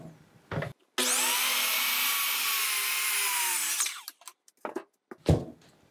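A circular saw cuts a wooden carpentry joint: the motor screams at a steady high whine through the wood for about three seconds, then winds down, with sharp knocks and handling around it.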